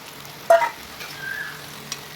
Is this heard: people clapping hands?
no